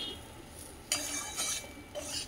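A utensil stirs gram flour (besan) in a pan for a vegetarian dish, making a few close scraping, clinking strokes in short bursts against quiet.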